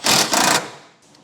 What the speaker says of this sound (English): we'll go ahead and put a self-tapping bolt right up against the frame.